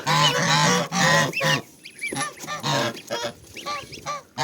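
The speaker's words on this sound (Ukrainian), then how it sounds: "Це від моїх гусей" Geese honk loudly and repeatedly close by, a chorus of harsh overlapping calls.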